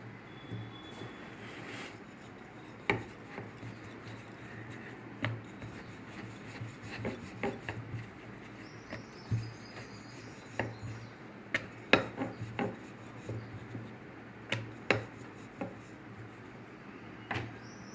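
Puri dough being rolled into small balls by hand, heard as soft, close rubbing and scraping with scattered light taps on a surface, repeating at an irregular pace over a steady room hum.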